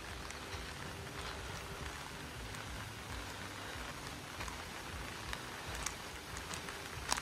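Rain falls steadily on the Appalachian Trail near Mount Greylock, an even hiss of drops on leaves and ground with a few sharper taps, continuous and fairly close.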